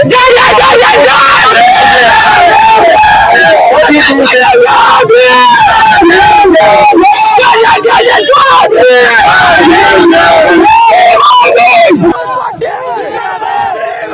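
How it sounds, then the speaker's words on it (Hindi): Dense, loud crowd at a Uttar Pradesh political rally, many voices shouting and cheering at once in a continuous roar, thinning slightly near the end. "कितनी ज्यादा भीड़ यहाँ पे लगी हुई है"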